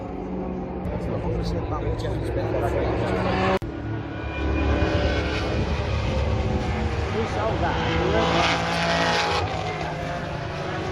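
Loud, continuous engine roar from classic race cars on the Le Mans circuit during the Le Mans Classic, with buzzing harmonics rising and falling as cars pass and a brief cut partway through.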